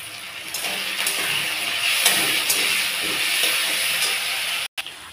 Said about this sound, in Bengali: এইবার আমি ওই তেলের মধ্যেই দিয়ে দেবো ওই আলুগুলোকে একটু ভাজা ভাজা করে নেব।